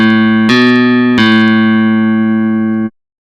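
Two sustained, bright plucked guitar tones ring out a major second apart, the second note struck about half a second after the first and then re-struck, both decaying evenly before stopping abruptly.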